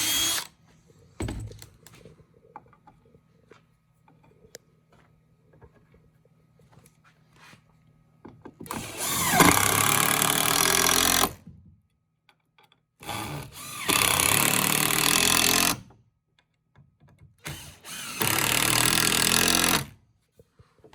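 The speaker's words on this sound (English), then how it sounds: "I'm going to hold these 3 down as hard as I can while I drill the hole." Power drill boring holes through Adirondack chair boards held down by hand: three loud sustained whirring bursts of a few seconds each, separated by short pauses, after quiet handling clicks and knocks at the start.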